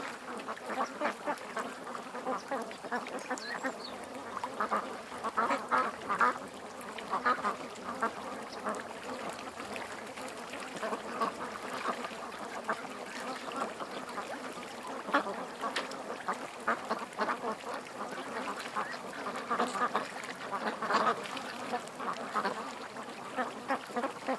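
Ducks quack and chirp in a steady, busy chorus, with overlapping calls repeating throughout at a moderate distance and fairly quiet overall.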